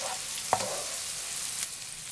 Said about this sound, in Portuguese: Vamos mexendo devagar